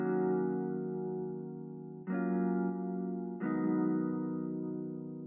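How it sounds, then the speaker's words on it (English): Ionosphere guitar with the arpeggiator switched off, in a lo-fi arrangement, giving long sustained chords that ring out smoothly, changing twice with soft new attacks, warm and effect-washed with no voices. "So if I had the arp off,"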